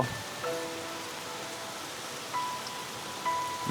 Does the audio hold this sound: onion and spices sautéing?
no